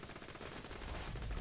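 Rapid gunfire from a weapon in the video game Borderlands 2, a dense burst of shots building louder toward the end with no talking.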